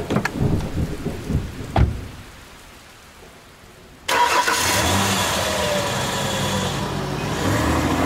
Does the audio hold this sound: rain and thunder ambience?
yes